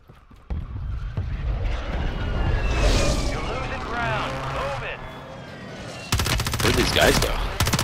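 Burst fire from a video game gun in a tactical shooter, a dense, loud rattle of rapid shots near the end, with game noise and players talking before it.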